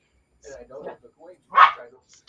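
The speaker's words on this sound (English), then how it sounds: "that's why she's barking" A small corgi barks and yips close by, a few short muffled woofs followed by one louder sharp bark.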